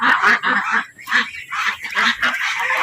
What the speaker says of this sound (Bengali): আর এই পাশটা হচ্ছে রাজহাঁস।